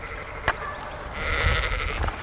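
A sheep on open pasture bleats in a wavering, nasal call that swells in the middle of the clip. It sounds fairly close, with a short sharp knock and a light outdoor background.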